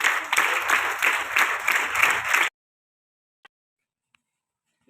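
A crowd at a school event claps in steady, dense applause for about two and a half seconds, then stops abruptly, leaving near silence with a few faint clicks.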